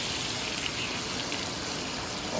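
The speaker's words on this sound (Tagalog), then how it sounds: "Okay, lagyan po natin ng konting tubig." A little water being poured into a cooking pan for an egg dish, a steady, close rushing gush that holds at an even level throughout.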